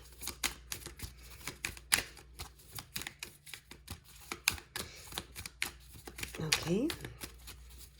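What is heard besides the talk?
shuffling Gypsy Oracle cards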